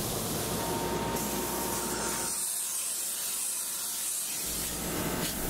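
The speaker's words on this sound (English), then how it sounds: "The polyurea lining system is now being applied. It is applied at 165 degrees and about 2500 psi." Steady high-pressure hiss of polyurea lining being sprayed onto clean concrete at about 2500 psi and 165 degrees, a continuous airy rush that briefly thins in the middle, close and moderately loud with no talking.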